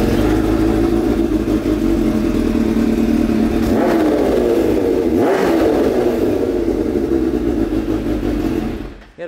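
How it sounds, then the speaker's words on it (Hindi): A Kawasaki H2 motorcycle starting from cold and revving, a loud, continuous engine roar close by that swells in two throttle blips before cutting off abruptly near the end. "करते हैं बाइक को जल्दी से कोल्ड स्टार्ट।"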